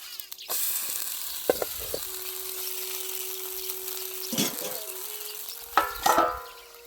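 Rice flour and fresh garlic pancake sizzling and frying in hot oil on a pan at an outdoor farm meal, a steady crackle with a few louder spatters and utensil scrapes, no talking.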